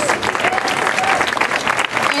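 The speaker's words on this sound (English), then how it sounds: "Everybody please give them a round of applause." An art gallery audience applauds the show's jury in a dense, loud, steady burst of clapping, with a few voices faintly beneath it.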